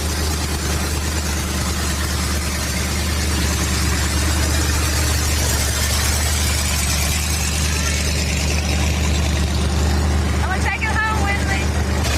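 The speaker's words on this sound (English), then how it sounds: "Fire it up, slip it in gear," A 1990 classic car's engine runs steadily at idle, a loud continuous low rumble throughout, with a brief brighter burst of activity near the end.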